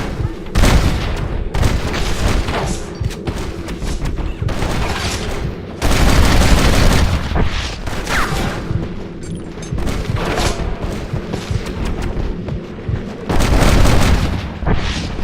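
Dense gunfire and booming explosions in Red Dead Redemption pound away continuously at close range, a loud chaotic battle of rifle cracks and heavy blasts with occasional shouting voices underneath.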